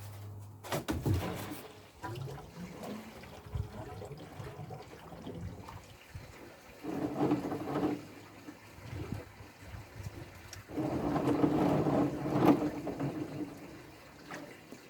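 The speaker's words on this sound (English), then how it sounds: "now just give each bay a quick flush" Water flushing through the bays of a koi pond filter system in bursts, an early splash and then two longer gushing surges, moderately close amid quieter outdoor stretches.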